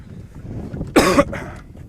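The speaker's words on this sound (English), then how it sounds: "I wonder what that cough sounds like on Camera there?" One sharp cough bursts out over faint wind noise on a golf course, followed by a softer trailing breath.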